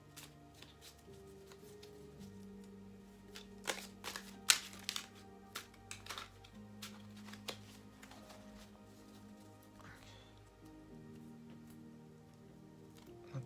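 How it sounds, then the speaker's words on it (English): Rapid papery riffling of cards being shuffled, several bursts of flicking and snapping at close range, with a low steady hum underneath. "I'm just going to shuffle this."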